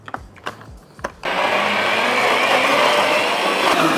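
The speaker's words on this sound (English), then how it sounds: "Let's start mixing this up slowly now." A blender mixing sugar and cream for a Basque cheesecake switches on after a few soft knocks. It then whirs loudly and steadily, close by, for the rest of the moment.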